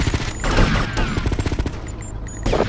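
Police open fire during a mall shootout in GTA Vice City, a dense fusillade of rapid overlapping gunshots that crack loudly in quick succession for the whole stretch, with a few louder bursts near the end.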